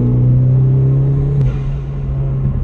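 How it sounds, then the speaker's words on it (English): A 2011 Hyundai Genesis Coupe R-Spec fitted with an aftermarket Forge blow-off valve runs loud and close, its steady engine drone rising briefly before a short release whoosh from the valve. "I have a Forge blow-off valve, which, let me see if I can get it to blow off"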